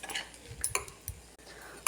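A spoon scrapes and clinks against a bowl while scrambled egg is mixed with boiled peas, carrot and potato, giving several short, close metallic taps and stirring sounds with brief gaps between them.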